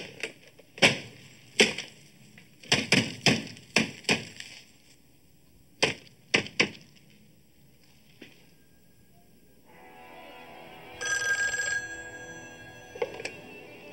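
A series of sharp, irregular percussive knocks, then an electronic ring tone trills near the end.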